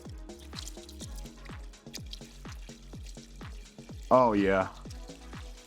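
Liquid C3 and iron fertilizer is poured through a strainer into an EGO Power+ backpack sprayer, a close run of regular drips and trickles, with a brief voice partway through.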